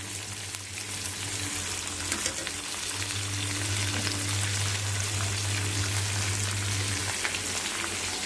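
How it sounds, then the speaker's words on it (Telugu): Dried fish pieces fry in a pan for an eggplant curry, giving a steady, dense sizzle that runs evenly from start to finish with no voices. "ఎండు చేప ముక్కల్ని ముందు ఇలా వేయించుకోవాలి"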